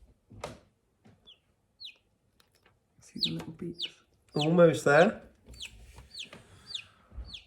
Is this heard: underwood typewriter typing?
no